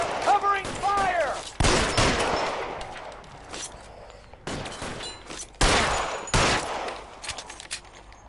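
Gunfire in the video game L.A. Noire: loud bursts of shots and rapid volleys in a shootout, with a voice heard briefly at the start.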